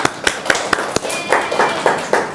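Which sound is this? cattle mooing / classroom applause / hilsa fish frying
classroom applause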